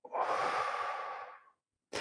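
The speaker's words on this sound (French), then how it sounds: "Une respiration." A single long, deep breath drawn and released during a guided breathing exercise, close and soft, lasting about a second and a half, followed by silence before the next breath begins.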